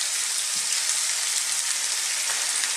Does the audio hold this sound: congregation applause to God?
no